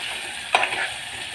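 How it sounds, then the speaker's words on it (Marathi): Raw drumstick pods fry in hot tempering with salt added, a steady soft sizzle broken by one brief scrape of a spoon stirring the pan, close up with no talking. "कच्च्या शेंगा आहेत त्या फोडणीला दिलेल्या आहेत."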